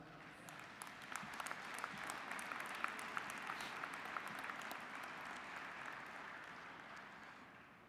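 Applause from a crowd at the American Legion national veterans' convention, a broad, sustained wash of clapping heard from a distance, with a few sharper claps standing out, easing off gradually over eight seconds.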